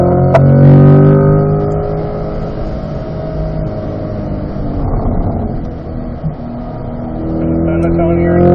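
A C8 Corvette accelerates on a race track at a performance driving school, its loud engine droning steadily with a strong, smooth tone that dips slightly midway before rising again, heard from close by with a voice talking over it.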